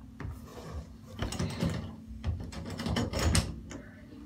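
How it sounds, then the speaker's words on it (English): A bedroom door being unlocked and handled: a series of close wooden knocks, clicks and rattling latch sounds over several seconds, with no talking. "unlock the door."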